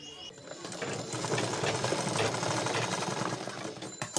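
Close, fast, continuous whirring chatter of a sewing machine stitching folded fabric, steady throughout at a constant pace with no voice over it.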